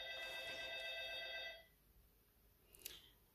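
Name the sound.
intercom buzzer ringing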